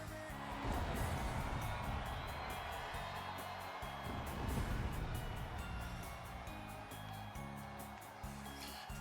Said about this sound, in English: Oh, the crowd noise.